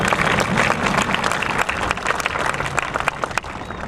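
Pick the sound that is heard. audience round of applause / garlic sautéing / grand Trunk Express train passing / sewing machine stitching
audience round of applause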